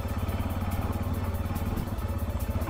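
A Macbor Montana XR1 125cc trail motorcycle chugs close by at low revs on an off-road track, its engine pulsing unevenly before it falters and stalls.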